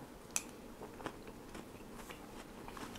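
Crunchy canned rambutan bitten and chewed close up, a few crisp bites followed by soft wet crunching, quiet and without speech.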